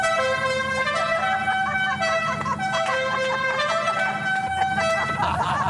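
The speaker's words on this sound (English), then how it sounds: "Let's hear that horn." Horn of a General Lee replica car, a sustained multi-tone musical horn playing a melodic run of notes, loud and close, continuing unbroken for several seconds.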